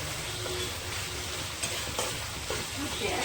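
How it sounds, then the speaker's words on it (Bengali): Spiced masala for Kashmiri dum aloo fries in a pan with a soft continuous sizzle, a few scraping stirs of the spoon cutting through, close and fairly quiet. "এই দেখুন মশলাটা কীভাবে কষানো হয়েছে"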